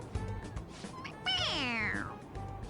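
A toy cat in the Persona 5 Royal video game gives one drawn-out, falling meow when its head is pressed, clear over quiet game background sound.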